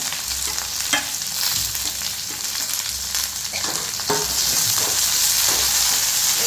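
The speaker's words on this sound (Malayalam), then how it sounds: "ഇഞ്ചി ഇടാം വെളുത്തുള്ളി ഇടാം" Ginger, garlic and green chillies sautéing in a pan for a snakegourd curry, a continuous bright sizzle with occasional stirring scrapes, close and steady, growing slightly louder toward the end, without speech.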